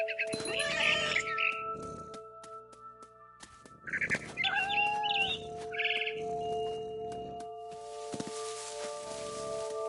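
A cat meows in the video game What Remains of Edith Finch, a few short cries among bird chirps over a steady backdrop of sustained musical tones.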